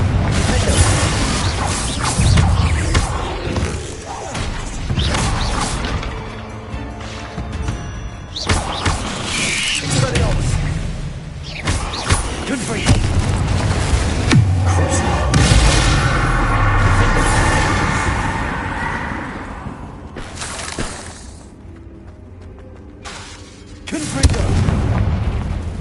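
Repeated booming blasts from Confringo spells in a Harry Potter video game, a string of loud explosive bursts with game effects in between and brief quieter gaps.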